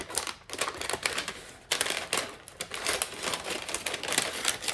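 Scissors snip through a sheet of brown lunch bag paper in quick, crisp cuts with light crinkling, close and rhythmic with short pauses between strokes.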